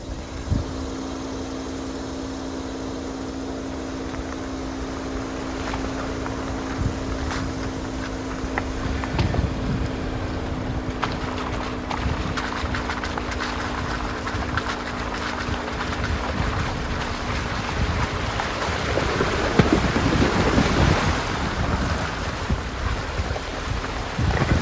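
A vehicle on a Tennessee dirt road fords a creek, with continuous rushing water and splashing under a steady engine drone and wind buffeting that grow louder toward the end.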